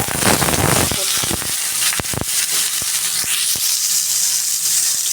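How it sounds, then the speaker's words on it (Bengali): Dried red chillies and black cumin hit hot oil in a pan, giving a steady bright sizzle and hiss with scattered crackling pops throughout. "কড়াইতে তেল দিয়ে দিয়েছি তেলটা গরম হয়ে গেছে এবার এর মধ্যে দিয়ে দেবো শুকনো লঙ্কা ফোড়নে আর হচ্ছে সামান্য পরিমাণ কালো জিরে"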